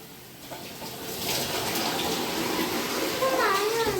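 Water runs steadily into a bathtub at home, a continuous broadband rush that swells louder after the first second, with a voice briefly audible near the end.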